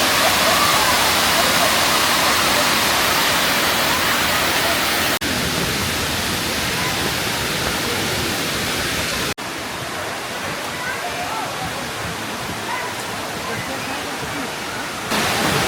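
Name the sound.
waterfall cascades at Fall Creek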